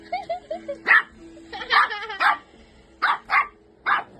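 A shih tzu barks angrily in sharp repeated yaps with whimpering whines between bursts, close and fairly loud, while people talk excitedly in the background.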